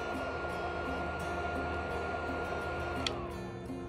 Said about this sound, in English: it is working. It is heating up the bolt.